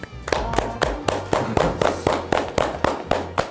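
Group applause at the close of a Korean education talk show, a steady run of crisp hand claps in a quick even rhythm, close and moderately loud, lasting a few seconds without talk.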